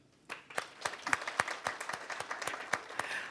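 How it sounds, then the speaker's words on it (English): A small audience at a community foundation gathering starts applauding after a quiet beat, with sparse, distinct claps that build into a steady, moderately paced round heard close by. "I think you should applaud yourselves"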